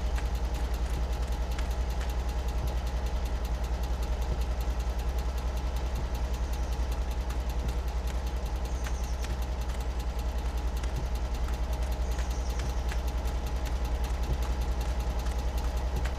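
Heavy truck engine idling in the Alaskan Road Truckers video game on PS5, a steady low rumble with constant vibration that holds evenly throughout, with no talk over it.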